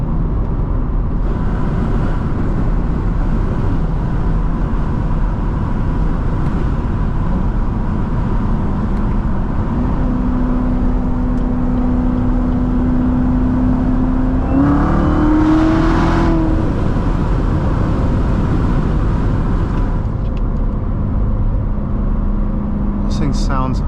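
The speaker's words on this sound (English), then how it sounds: "This thing sounds amazing. You can hear that supercharger whine just enough." Corvette C7 Z06 with supercharged V8 echoing through an underpass, a steady loud engine drone with a rising whine and a sharp rev burst midway, heard from inside the car.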